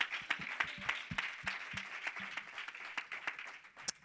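A church congregation applauds during a Spanish-language service, a faint, scattered round of clapping with distinct individual claps over a soft room hum.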